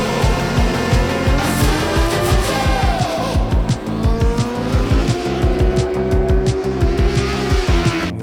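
Superbike racing on a circuit during a French superbike championship round, loud close engine with repeated gear-shift pulses, tires squealing in a sustained high whine under heavy braking, no talk.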